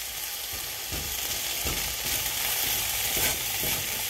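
Breakfast food sizzling in a pan, a continuous close frying hiss with occasional soft stirring knocks and no talk.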